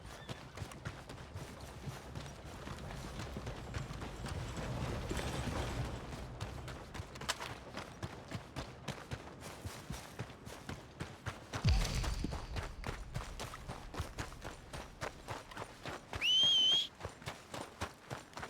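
Horse hooves clip-clop steadily in Red Dead Redemption 2, a walking rhythm of soft, close thuds with a brief louder rustle midway and a short whistle near the end.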